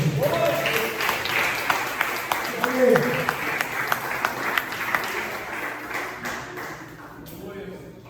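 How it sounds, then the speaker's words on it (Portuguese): Church congregation applauding during a worship service, a sustained wash of clapping with some sharper individual claps standing out, moderately loud, with voices underneath. "Pode aplaudir dando glória a Deus."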